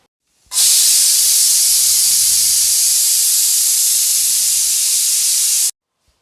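A loud, continuous hiss of steam escaping under pressure from a pressure cooker whistle starts abruptly, holds steady for about five seconds, then cuts off sharply.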